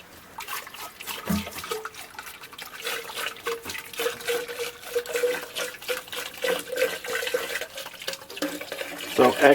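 Tap water runs into a sink while film development equipment is rinsed at home, a steady splashing trickle throughout with a clatter near the end.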